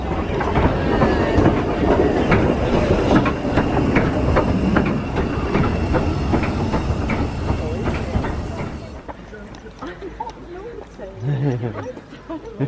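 Isle of Wight heritage steam train running, a loud rumbling rattle with clickety-clack of wheels on the rails that eases off toward the end, with people talking aboard.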